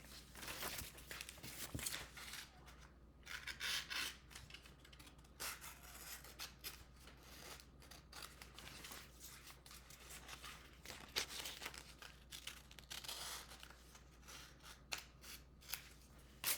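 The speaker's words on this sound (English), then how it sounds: "I'm just going to cut out one of these black boxes" Scissors snip through paper again and again at close range, crisp slicing cuts with rustling and handling sounds between them, no talking.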